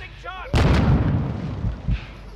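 A rocket blast in a video game lands as one sudden heavy boom with a rumbling tail and a smaller pop after it, with excited voices chattering around it.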